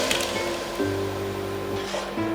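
Strawberry jam mixture is poured into a cooking pot, making a thick, wet, sloshing pour close by over a steady low hum.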